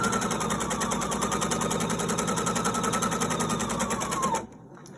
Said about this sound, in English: Only sew as fast as you can and keep some control.